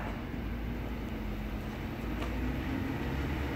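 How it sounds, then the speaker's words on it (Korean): A low, steady rumble of an idling Korean Mugunghwa passenger train at Sintanjin Station platform, with a faint constant hum and no voices. "목포행 무궁화호 1201호 열차고요."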